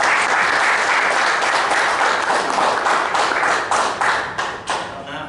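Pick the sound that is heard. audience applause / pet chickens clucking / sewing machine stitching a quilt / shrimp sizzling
audience applause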